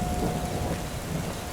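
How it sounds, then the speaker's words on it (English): Loud, steady thunderstorm: heavy rain pours on surfaces with a deep rolling rumble of thunder underneath, dense and continuous throughout, with no voices. "That's a lot of thunder and lightning."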